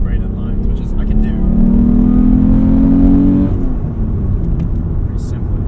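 A 1996 Mitsubishi 3000GT base model accelerating, its engine induction note rising in pitch for a few seconds and then dropping off, heard loud from inside the car with voices talking over it.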